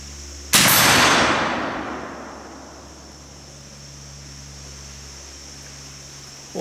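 A single loud gunshot from a salvaged Thompson/Center rifle with a rough barrel, a sharp close blast followed by a long decaying boom and ringing over a steady background hiss.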